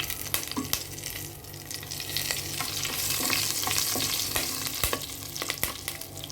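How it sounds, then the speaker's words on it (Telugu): Curry leaves hit hot oil with roasted spices while cooking a broad bean fry, crackling and sizzling close by with sharp pops and scraping stirs throughout, and nobody speaks. "ఇప్పుడు కొంచెం కరివేపాకు వేసుకోండి"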